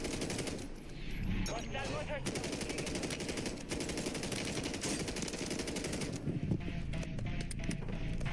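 Rapid automatic gunfire rattles through a Call of Duty match on Rebirth Island, with dense bursts of shots continuing steadily under game ambience.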